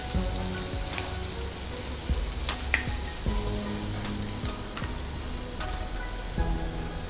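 Ingredients for a dry shrimp chutney fry in a pan, a steady close crackling sizzle like light rain with occasional small pops and taps from stirring, with no talk.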